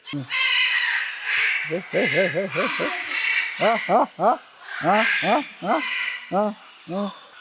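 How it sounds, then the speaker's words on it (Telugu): Birds at Mysore Datta Peetham give loud, close squawking calls in quick repeated bursts, some in rapid runs of four or five, over a constant background of flock chatter. "ఎంత కిలకిల రావాలి చూడండి మనకు"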